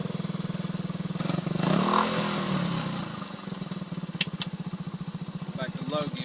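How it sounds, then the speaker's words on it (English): A 1977 Honda CT90 trail motorcycle engine runs in high gear with a steady, close, buzzing single-cylinder putter that swells briefly, and someone talks over it. "Now it's in high gear."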